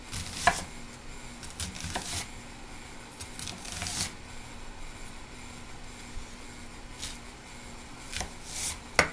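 A knife slices through food on a cutting board for a bacon cheeseburger pizza, giving scattered close cuts and soft thuds spaced irregularly over quiet room tone.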